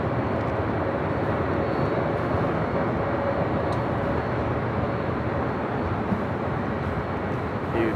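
A 28-year-old United Airlines Boeing 757-200 taxis on taxiway Echo toward runway 24 Left at LAX, a steady broadband jet-engine rumble and whine held level throughout, fairly loud with no talking.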